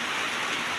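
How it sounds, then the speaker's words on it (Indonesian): Rain falls steadily in a moderate, not very heavy shower, a dense even hiss of drops on surfaces throughout the brief moment, with no voices over it. "Lagian di sini juga masih hujan"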